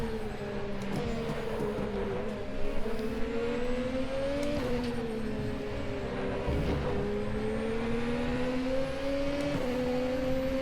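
The Formula RaceRoom open-wheel race car in RaceRoom Racing Experience, at Mid Ohio, drones steadily at high revs, its engine pitch stepping up and down through gear changes, continuous and close with no voices.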